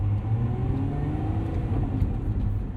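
A 2025 Lotus Emira V6 rolls along slowly, its engine a steady low rumble and whir that stays close and even throughout, with no one speaking.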